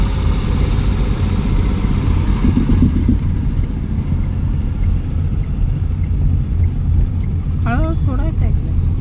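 A car engine runs steadily during a driving lesson, a loud low rumbling hum filling the whole stretch while an instructor's voice talks over it.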